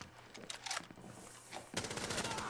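Rapid video-game gunfire in Rainbow Six Siege, shooting through barricades: loud bursts of automatic shots, with a short pause midway before a denser sustained volley resumes, close and harsh.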